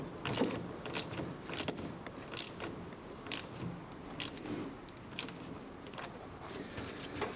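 A ratchet tightens a bolt under a car, giving short bursts of crisp clicking close by, about one burst every second with brief pauses between, alone and without talk.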